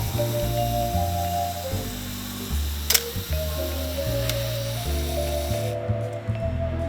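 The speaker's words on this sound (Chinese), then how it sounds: "它就会开始倒数计时" Canon F-1 film camera self-timer buzzing steadily through its countdown in a mechanical whirring drone, ending in a single sharp shutter release click up close, with no voices.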